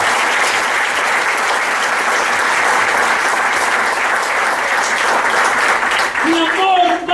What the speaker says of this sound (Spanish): Celébrelo con un aplauso,